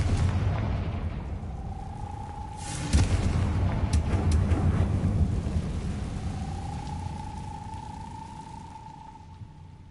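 A Confringo spell blast in Hogwarts Legacy bursts out around three seconds in as a loud, broad explosive boom. A low rumble carries on after it and a faint tonal hum rises and falls.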